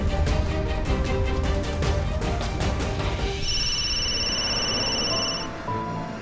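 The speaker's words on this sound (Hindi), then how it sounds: "तू ये फोन ले और अंशुमन भैया को कॉल कर।" A telephone rings with rapid repeated bell-like pulses, loud and close, then shifts to a steadier electronic ringing tone that holds for a couple of seconds before stopping.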